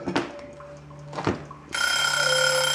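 A kitchen timer set for baking focaccia-style bread in a Dutch oven goes off. A couple of soft knocks come first, then the loud, steady electronic alarm rings on without a break.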